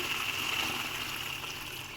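Hot water poured into a pot of chicken curry being cooked down, a steady broadband rushing pour lasting about two seconds, moderately close with no talk.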